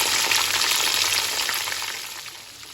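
Foraged wild mushrooms frying in a pan of oil, a steady close sizzle and crackle that holds loud throughout and eases off slightly toward the end, with no talking.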